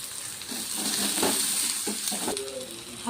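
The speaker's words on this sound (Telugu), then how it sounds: "ఉల్లిగడ్డ, పచ్చిమిరపకాయలు ఇవి కొంచెం వేగాలి" Onions and green chillies frying in oil in a kadai give a soft, steady sizzle with a few stirring clinks and scrapes, close by and alone.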